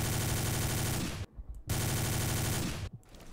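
Two long bursts of rapid automatic gunfire from a weapon in a Game Guru-made shooter game, loud and close, each cut off abruptly by a short silence.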